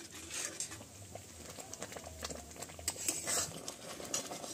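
Tamarind being stirred into homemade tomato sauce in a pan, soft scraping and patter of a spoon with gentle bubbling, quiet and close with no talk.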